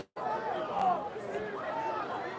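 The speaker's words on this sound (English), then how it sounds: "You can hear our sideline getting really upset about the fact that we got flagged on that." A college football sideline erupts in agitated shouting and crowd chatter over a penalty flag during a Baldwin Wallace versus Capital game, a steady mid-distance babble of many voices with no clear individual words.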